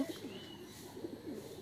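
Pigeons coo softly near a coop, giving low, throaty murmurs that repeat in short phrases against a faint background.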